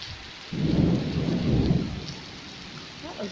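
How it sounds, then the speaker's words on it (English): Heavy afternoon thunderstorm rain pours steadily as a deep, loud roll of thunder rumbles up and fades away. "in the afternoon we get these tremendous rainstorms that often include hail"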